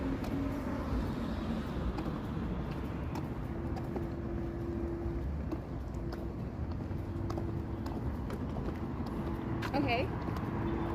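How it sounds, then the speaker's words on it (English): Busy downtown car traffic in North Bay, Ontario rumbles in a steady, loud wash of passing engines, with a voice talking faintly underneath. "We're downtown and there's a lot of cars."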